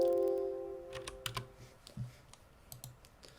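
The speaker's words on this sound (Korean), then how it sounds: "얘네들을 한번 실제로 타이핑을 해보고" Keys clatter on a computer keyboard as code is typed, a quick irregular run of light clicks close to the mic, opening over a brief fading electronic tone.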